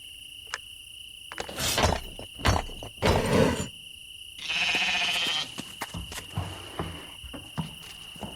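Sheep in the Lost Lands 9 video game bleat a few times in drawn-out, wavering calls over a constant high insect-like chirring ambience, with a longer buzzy tone partway through.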